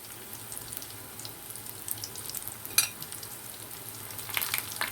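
Rolled bread croissants frying in oil make a faint, even sizzle with scattered light crackles and one sharper pop, quiet and close, with no talking.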